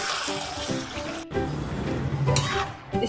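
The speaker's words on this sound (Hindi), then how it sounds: "इसमें एक कटोरा पानी भी मैं डाल दूंगी" A bowl of water poured into a cooking pot of chicken rezala with onions: a short splashing pour and liquid rush, fairly close and continuous for a few seconds, with a brief break in the middle.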